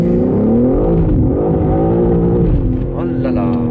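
A BMW M3 Touring with xDrive all-wheel drive revs loud and close from inside the cabin while driving, the engine note rising and falling steadily, with people talking over it.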